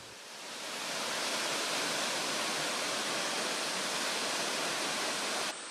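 A waterfall at Paronella Park, Many Creek Falls beneath a bridge, roars as a steady, close, full-bodied rush of water that fades in and then holds evenly, with no voices.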